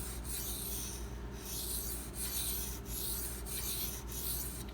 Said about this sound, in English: burr minimization passes